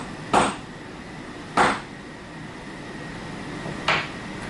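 A hammer strikes three times, sharp and fairly close: two blows about a second apart, a pause, then a quieter third blow over a faint steady background hum.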